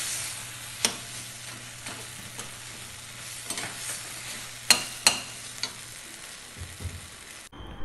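Tomatoes being flipped and stirred in a pan while cooking down for a spicy tomato chutney, a steady close sizzle punctuated by sharp spatula scrapes and knocks, ending abruptly.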